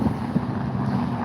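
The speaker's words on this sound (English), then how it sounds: "We're here in the literal wind because it's so windy outside." Strong wind buffeting a microphone outdoors on a very windy day, a dense steady roar with gusty thumps, loud and continuous, no speech.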